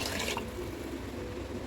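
Water splashes into a cooking pot of chicken for donne biryani, a steady hissing pour that runs unbroken and close, loudest at the start and then settling into an even rush.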